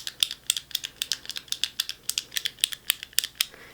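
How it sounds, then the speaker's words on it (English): Sharp, bright clicks from a clicky fidget toy, about fifteen crisp snaps in a quick, slightly uneven rhythm, close and distinct against a quiet background with no talking. "I love the clicking sounds and stuff to it"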